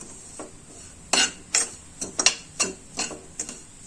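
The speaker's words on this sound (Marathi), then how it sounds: "ह्याच्यामध्ये मी मस्तपैकी मिक्स करून घेते" A spoon stirs karanji filling of cardamom and almond powder in a pan, giving about a dozen sharp scraping clinks at an uneven pace over a quiet background, with no talking.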